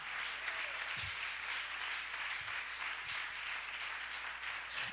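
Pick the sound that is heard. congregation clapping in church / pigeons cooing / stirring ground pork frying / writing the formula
congregation clapping in church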